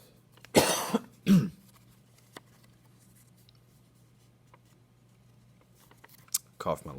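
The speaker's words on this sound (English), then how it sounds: "Cough my lungs out over here" Two harsh coughs close to the mic in quick succession, followed by quiet with faint paper-handling noises and another short cough-like burst at the end.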